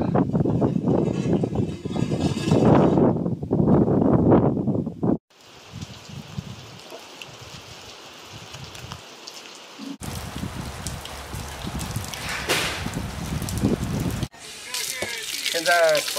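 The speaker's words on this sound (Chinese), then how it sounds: "要下大雨了" Heavy rain pouring down steadily on a rural farmstead, a dense wash of noise with shifting intensity; people talk loudly at the start.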